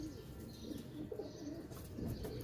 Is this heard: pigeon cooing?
yes